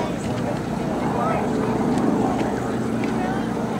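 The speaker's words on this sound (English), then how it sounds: "It's going to be passing by with the bomb bay doors open." A TBM Avenger Navy torpedo bomber flies past at an air show with its bomb bay doors open, a steady, loud rumbling propeller drone, with someone talking over it.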